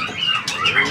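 A songbird, a fighter-type magpie robin at a bird market kiosk, gives a few short bright chirps close by in a quick run lasting under a second.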